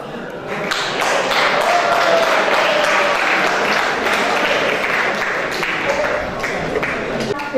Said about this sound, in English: So please give a huge applause